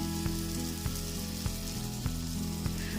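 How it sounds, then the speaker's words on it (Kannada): Paneer pieces shallow frying in butter on a tava give a steady, soft sizzle with small regular ticks and no talk. "ಇದಕ್ಕೆ ನಾನು ತೊಗೊಂಡಿರೋಂಥ ಪನ್ನೀರನ್ನ ಈ ರೀತಿಯಾಗಿಟ್ಟು ಇದನ್ನೆಲ್ಲ ಶಾಲೋ ಫ್ರೈ ಮಾಡ್ಕೊತೀನಿ"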